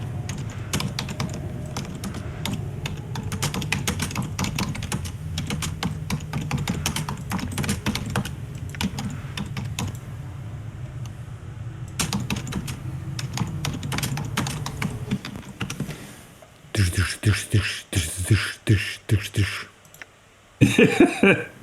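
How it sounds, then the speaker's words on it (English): Rapid clicking of computer keyboard typing during a Planescape: Torment Enhanced Edition session, bursts of keystrokes audible near the end after a stretch of muffled talk and game audio. "It was me typing."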